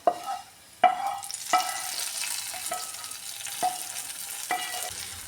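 Tomato curry being stirred and mixed in a pan off the heat, a string of sharp spatula knocks and scrapes against the metal over a soft sizzle, close and fairly quiet, no speech.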